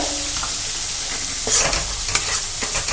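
Ground spice paste frying with tomato paste and powdered spices in a pan for a vegetarian dish, a steady low sizzle with brief scraping stir strokes and clinks throughout.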